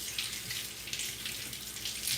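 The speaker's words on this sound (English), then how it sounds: "Let me rinse this one off." Tap water runs steadily over a makeup brush being rinsed at a sink, a soft continuous splashing hiss that stays close and even throughout, with no talking.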